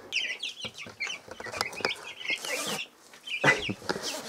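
Chickens cluck and chatter close by in short, repeated bursts, with a few higher squawks mixed in over a quiet background.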